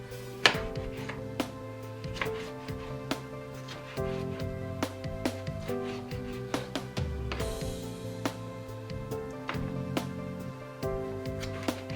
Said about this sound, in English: but I just chop it up into big chunks like this.